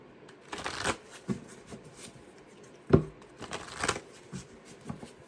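Cards being shuffled in soft, uneven riffles and flicks, close up and fairly quiet, with a sharper snap near the middle.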